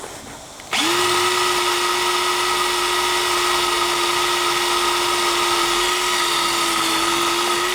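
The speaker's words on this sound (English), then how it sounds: "This drill's not the best thing in the world." A power drill bores a pilot hole for a bolt extraction on a scrap car, starting abruptly and then holding a loud, steady high whine right next to the microphone for several seconds.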